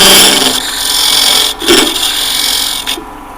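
Parting tool cutting a wooden tenon on a lathe: a steady, close scraping and rasping of the blade against spinning wood, with two short sharper catches partway through and no talk.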